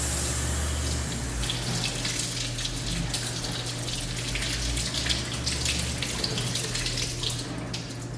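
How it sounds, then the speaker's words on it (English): Running tap water pours steadily into a kitchen sink while lettuce is rinsed, a continuous splashing hiss with no voices over it. "but I gotta rinse the lettuce"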